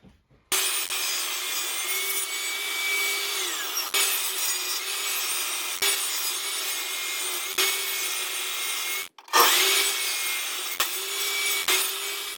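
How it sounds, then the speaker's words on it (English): Table saw with a sled slicing through wooden cladding: a continuous loud whining cut lasting several seconds, briefly stopping, then resuming, with occasional knocks along the way. "use the table saw sled I showed earlier to get a perfect fit in"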